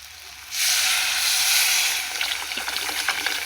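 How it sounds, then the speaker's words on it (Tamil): Tamarind water is poured into sautéed chili, onion and tomato masala for a fish curry, setting off a sudden loud sizzling hiss that settles into crackling, bubbling spatter from the hot pan. "இப்போ புளியை கரைச்சி வச்ச தண்ணியை ஊற்றணும்."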